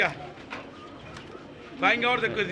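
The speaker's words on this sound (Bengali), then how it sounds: "অনেক সুন্দর কবুতর আছে" Pigeons coo at a busy pigeon market in Saroliya, Bangladesh, with soft warbling calls rising clearly near the end over steady background chatter and people talking.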